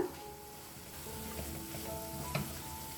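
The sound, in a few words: roasted chillies sizzling as they are stirred into masala in a pan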